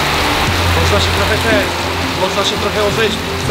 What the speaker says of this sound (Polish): to jest deszcz, to jest życiodajne, to jest woda